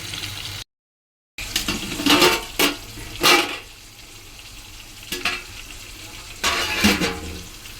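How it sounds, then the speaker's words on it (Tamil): Fish pieces for biryani frying in oil in a pan as they are stirred, giving a steady close sizzle broken by several brief scraping strokes and a short dropout near the start. "பார்த்து பொறுமையாக கிண்டணும்"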